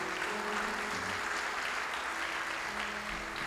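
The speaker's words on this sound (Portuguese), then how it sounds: "Dá uma salva de palmas para o Senhor." A church congregation at a wedding anniversary celebration claps steadily for a few seconds, with soft background tones underneath.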